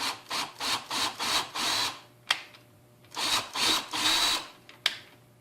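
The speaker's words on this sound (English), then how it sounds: "Drilled it right in." A Hart cordless drill driver drives a 3-inch screw with a series of short, loud motor whirs in quick pulses. It pauses briefly, then runs in longer bursts, with a few sharp clicks in between.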